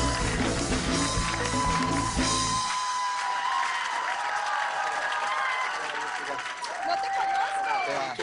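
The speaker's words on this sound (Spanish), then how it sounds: "Un aplauso para el señor Stefan Kramer." A television studio audience claps and cheers for Chilean impersonator Stefan Kramer, starting with a loud burst of music and applause that carries on as broad, sustained crowd clapping under chatter.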